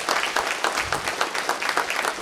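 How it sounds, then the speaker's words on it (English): Audience applause at a college hall of fame ceremony, a dense burst of clapping from a hall full of people, fairly close and lively, with no talking over it. "Please give her a round of applause."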